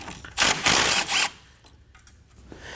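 A 12mm socket on a ratchet backs out a bolt on the front strut of a 2011-2016 Kia Optima. A loud, close burst of rapid ratcheting lasts about a second, then quiet follows.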